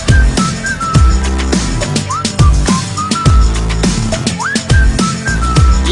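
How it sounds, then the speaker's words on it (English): Bright melodic whistling rises and glides over a punchy beat-driven music track, with short whistled phrases repeating between heavy drum hits. "so I whistled at her"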